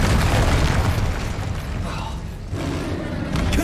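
Incendio fire spell in Hogwarts Legacy, a roaring whoosh of rumbling, crackling fire noise that dips briefly and then swells again, close and loud.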